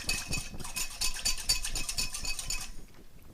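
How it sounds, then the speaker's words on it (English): A whisk clinks rapidly against a bowl while a lemon juice marinade is beaten, a steady run of close metallic ticks and scrapes that stops near the end. "what you want to do is just whisk this marinade up"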